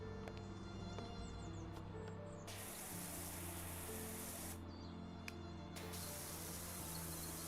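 A pressure washer with an intense nozzle sprays in a loud, steady hiss that runs the whole time, broken by two short pauses where the spray cuts out before starting again.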